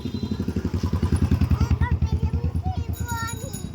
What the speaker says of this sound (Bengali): দেখছো বাইক আসছে, সরো সরো।